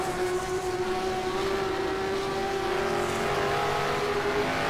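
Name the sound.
early 1970s Can-Am race cars at Riverside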